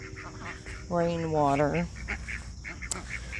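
Ducks quacking in a garden near their pool, one loud drawn-out honking quack close by, with a person talking quietly in the background.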